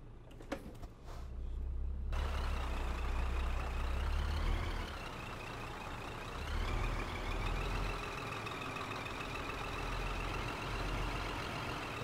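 A Scania P Series truck in Euro Truck Simulator 2 reverses a trailer, its engine droning steadily throughout with a reversing beeper and a brief hiss at the start.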